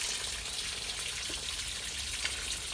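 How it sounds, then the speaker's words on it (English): Steady hissing water splashing down continuously near a pipe on station ramps at moderate distance, a constant wash with no talking. "It's splashing down there near the blue pipe."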